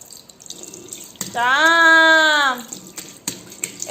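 Water runs from a tap in a home, a constant hiss broken by a child's loud drawn-out shout through the middle, with people talking near the end.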